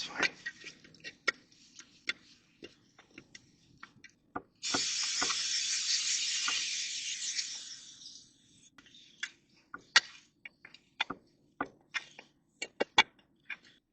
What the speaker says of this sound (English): Go ahead and clean it up with some brake clean while you got it off too, just to make the gasket removal a little bit easier